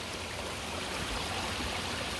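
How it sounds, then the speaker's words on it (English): A small mountain creek in the Adirondack High Peaks flows steadily along a trail, a soft, even rush of water with no voices. "There's a pretty little creek that we've been following the whole way."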